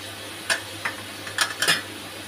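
Salt, turmeric, green chilli and ginger fry in a pan over a low hiss, broken by a few close, scraping stir strokes at irregular intervals.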